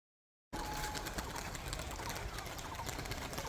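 A racing pigeon with a sore wing coos faintly beneath a steady, noisy background that cuts in abruptly after a brief silence.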